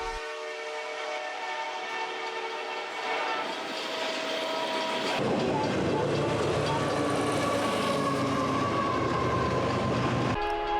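A CPKC freight train passes close by, its horn sounding loud and sustained over the rumble and clatter of rolling cars that grows heavier as the train goes by.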